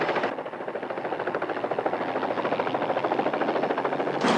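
A helicopter's rotor thumps in a fast, steady rhythm, loud and close, running continuously throughout.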